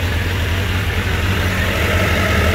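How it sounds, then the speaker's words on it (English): A 1990s sport motorcycle engine idling close by, a steady, even rumble held at constant loudness with no distinct rev swells. "Let's give her a few revs."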